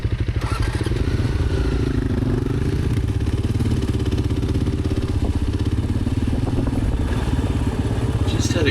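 Motorcycle engine running on a mountain road in Far North Queensland, a steady loud mid-pitched rumble with some clattering and scraping throughout, close by and continuous with no clear talk.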